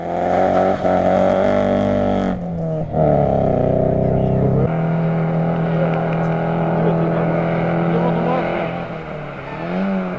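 An Opel Astra GSi rally car races up a hill climb course at Gürsu, its engine droning loud and steady, the pitch dipping and rising with gear changes and revs across the run.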